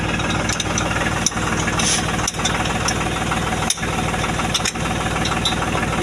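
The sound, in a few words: engine running and idling, farm engine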